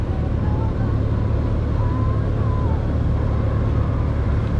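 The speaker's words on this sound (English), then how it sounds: "this is lunchtime traffic in Boyertown," Steady low rumble of passing road traffic at lunchtime in Boyertown, Pennsylvania, heard from a motorcycle, a continuous engine and tyre drone with no breaks.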